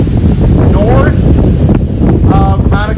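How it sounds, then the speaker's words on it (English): Strong wind gusts near the coast by Santa Monica during the Pacific Palisades fire, very loud roaring buffeting on the microphone with a voice faintly underneath. "You can tell the gusts have definitely picked up. It's a lot stronger."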